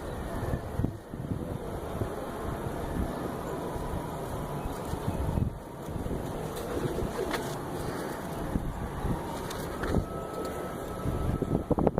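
Soft cooing from Teddi Madian pigeons during the rainy moulting season under steady wind and outdoor noise, with occasional rustles and bumps close to the microphone.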